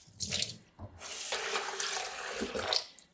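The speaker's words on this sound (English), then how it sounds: "I am going to rinse out this piece of gauze." A piece of gauze is rinsed under a running tap, the water splashing and gushing steadily into a sink for a few seconds after a couple of brief starts, close and fairly quiet.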